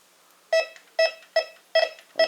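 A Bounty Hunter Tracker IV metal detector gives five short, bright tonal beeps over a silver ring at a steady, slightly quickening rhythm, with quiet gaps between them.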